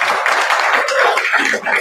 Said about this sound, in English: Can we get a round of applause for Jeff